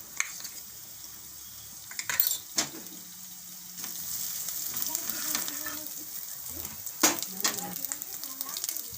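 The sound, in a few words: adding ginger to drumstick soup while cooking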